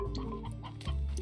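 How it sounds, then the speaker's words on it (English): A chicken in the video game Slime Rancher gives a short run of soft, quick clucks, faint and close, with a low game hum underneath. "Oh, no, chicken!"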